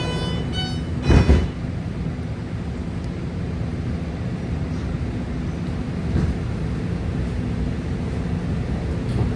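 A BART Green Line train to Daly City pulls out of Civic Center/UN Plaza station, a steady low rumble of the underground car filling the space, with a brief louder thump early on and no talk.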